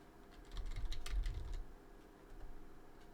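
A burst of rapid keystrokes on a computer keyboard clatters up close for about a second, followed by a quieter short run of taps.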